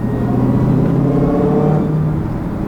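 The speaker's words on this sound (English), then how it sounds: "I wasn't expecting the supercharger noises to be so much fun." A 2016 Dodge Challenger Hellcat with a six-speed manual pulls under throttle, a loud continuous engine drone and rising supercharger whine heard from inside the cabin.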